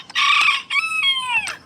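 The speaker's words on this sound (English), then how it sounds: "Cock-a-doodle-doo." A rooster crows on a farm near pigs and goats, two loud, close cock-a-doodle-doo calls in quick succession with a rising then falling drawn-out final note.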